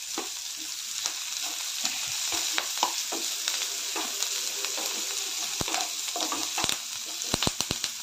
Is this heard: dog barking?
no